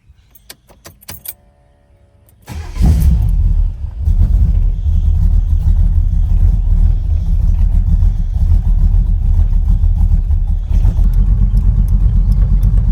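Keys jangle briefly, then an Oldsmobile Cutlass Calais G-body V8 fitted with four mufflers cranks, fires and settles into a loud, steady idle close by, with a slight change in tone near the end.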